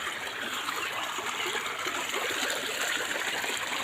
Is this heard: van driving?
no